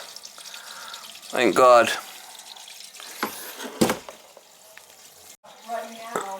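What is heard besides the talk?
toilet tank filling with water after pipe repair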